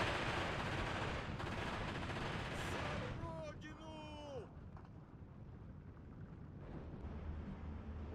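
Massed gunfire and artillery from a World War II Soviet battle in Steel Division 2 rumble as a dense, distant barrage, with whistling shells mid-way before the fire thins and faint voices sound under it.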